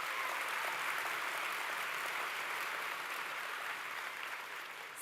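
A crowd at the WorldSkills Australia closing ceremony gives steady, even applause, a continuous wash of clapping at moderate level throughout.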